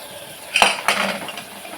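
A metal lid is set onto a cooking pot of farm chicken curry, making two quick, close clinks a moment apart in a quiet kitchen.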